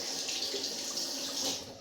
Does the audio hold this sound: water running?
yes